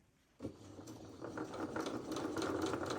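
A sewing machine stitches a second row along a T-shirt, starting abruptly after a brief quiet and running as a steady, close, rapid mechanical whirr with faint rhythmic ticking.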